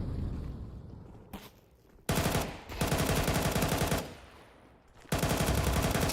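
Galil rifle fire in a Counter-Strike esports match, loud sustained bursts of rapid automatic shots broken by short pauses, close and dominant with no talk.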